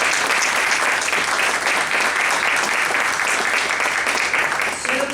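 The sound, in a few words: audience applause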